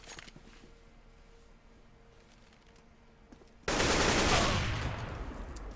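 Counter-Strike gunfire on the Cache map during a PGL Minor qualifier match: a sudden loud, dense burst of rapid shots erupts after quiet ambience and keeps rattling to the end.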